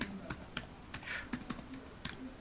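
Keys on a computer keyboard click in quick, irregular taps, faint and close, with no talking over them.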